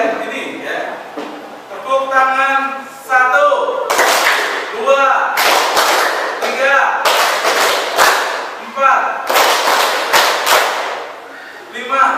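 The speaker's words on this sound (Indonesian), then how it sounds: "tepuk tangan 1, tepuk tangan 2, tepuk tangan 3, tepuk tangan 4, dan tepuk tangan 5." A classroom group claps out a series of rhythmic hand-clapping patterns, bursts of sharp claps alternating with spoken or chanted voices, loud and close.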